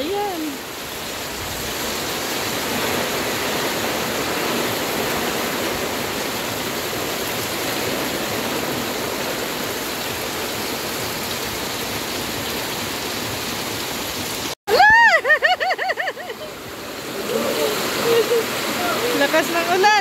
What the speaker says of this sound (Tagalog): Malakas na po ang ulan ngayon dito.